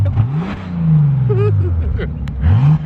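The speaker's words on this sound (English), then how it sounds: "But this sound good right now at idle. We're gonna catch a rev." A W12 car engine idles with a low drone, then revs up and settles back, with a second sharp rev near the end; loud and close.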